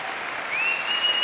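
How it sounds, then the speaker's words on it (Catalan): Applause from the audience at a university graduation ceremony, a brief soft wash of many hands clapping at a distance, with a thin steady tone running through its second half. "Més aplaudiments."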